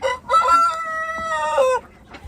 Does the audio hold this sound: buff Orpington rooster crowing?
yes